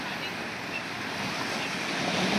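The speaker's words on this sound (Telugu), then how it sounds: "అలలు చూడు ఎలా వస్తున్నాయో." Sea waves washing in along a shore, a broad steady rushing surge that swells slightly toward the end, mixed with wind buffeting the microphone.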